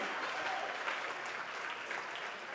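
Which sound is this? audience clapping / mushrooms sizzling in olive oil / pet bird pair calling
audience clapping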